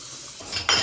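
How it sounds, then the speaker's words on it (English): Brief clatter of utensils and dishes at a sink, with water-like rushing noise rising near the end. "I like just like washing all the utensils I finished using"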